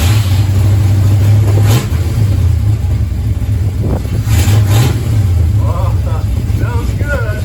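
A Ford Mustang Mach 1 engine, recently brought back to running order, idles loud and close with a heavy low rumble, then revs up in a few surges. Faint voices come in under it toward the end.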